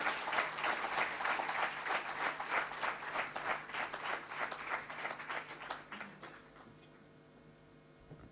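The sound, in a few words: audience applause as a welcome gesture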